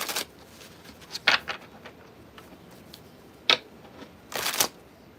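A Hermetic Tarot deck gets shuffled by hand up close, with sparse soft ticks and taps broken by a few sharper riffling bursts, with no talking.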